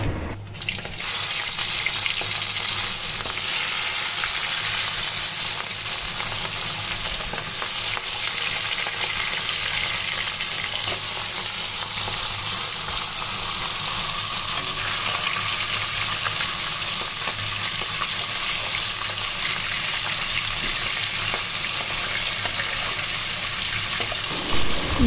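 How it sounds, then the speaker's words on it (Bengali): Fish fry in hot oil in a kadai with a dense, constant hissing sizzle that stays loud and close for the whole stretch, with no voices. "এখন এই কড়াইতে মাছগুলো ভেজে নেব।"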